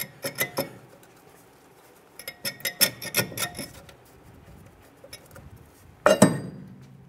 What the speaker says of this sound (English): And now we can remove our caliper bracket. Work your rotor slightly free and then pull it straight away.